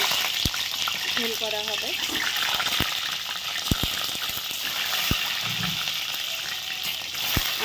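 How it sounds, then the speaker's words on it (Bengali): Eggs fry in hot oil in a pan for an egg curry, giving a steady close sizzle punctuated by sharp pops and utensil taps, while a voice speaks briefly over it. "এখন তেল গরম হয়ে গেছে, ডিমগুলো ভেজে নেব।"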